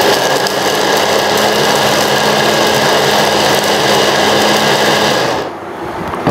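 An electric vegetable chopper machine whirs loudly and steadily at close range while cutting broad beans, a constant buzzing drone that cuts off abruptly near the end.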